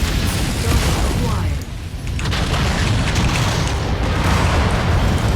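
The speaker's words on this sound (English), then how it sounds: "Have some rockets, my friend, some PPC. Have some more rocket, and down he goes." Rockets and PPC fire from a mech in MechWarrior 5 Mercenaries, heavy booming launches and explosions rumbling almost continuously, loud and dense, with a brief dip before the barrage resumes.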